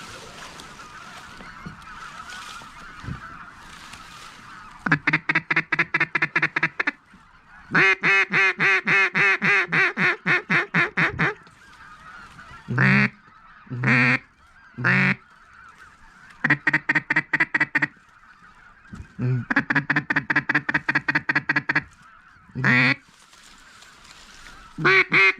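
Ducks quack during a duck hunt in Arkansas, loud rapid runs of calls in repeated bursts, each run falling away, separated by short pauses.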